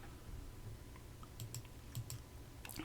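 Typing on a computer keyboard, with scattered quiet key clicks in small bursts against a low background hum, no talking.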